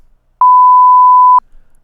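A loud, pure censor bleep holds one steady tone for about a second, covering a spoken word on a pastor's Q&A talk show, with quiet room sound on either side.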